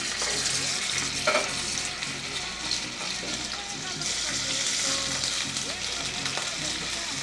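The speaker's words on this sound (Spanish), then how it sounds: "es el momento de adicionar nuestras ancas de rana, a las cuales le vamos a poner un poco de sal y vamos a sellar" Frog legs seasoned with salt searing in a hot pan, giving a steady, close sizzle that runs the whole time with faint stirring and clinks, no talk over it.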